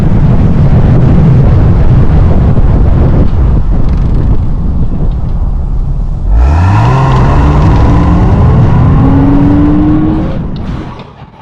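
A Porsche Boxster Spyder engine pulls hard from 40 to 60 mph on a warm Florida day, a loud rising engine note climbing steadily inside the cabin over air-conditioning hiss, then tailing off as the throttle lifts.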